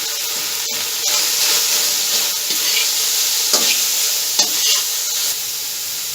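Loud, steady sizzling as vegetables such as carrot, green onion and chillies are stir-fried for chicken fried rice with egg, with frequent scraping stirs of a utensil in the hot pan. The sound is close and no one speaks.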